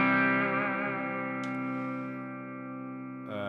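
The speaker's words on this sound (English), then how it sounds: "I turned on a tremolo" Electric guitar chord through a Fractal FM3 MKII Turbo with tremolo engaged, a sustained ringing tone that slowly pulses and fades, with a faint click midway and a fresh strum near the end.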